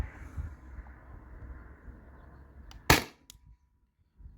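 One sharp, loud pop as a CO2-powered launcher fires a Riot Ball, following a quiet stretch of low room noise, then a short hissing tail and a faint second click before near-silence.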